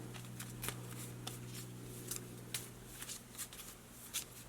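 A deck of tarot cards shuffled by hand, with a run of soft, crisp riffling bursts repeating irregularly at close range over a quiet background, with no voices.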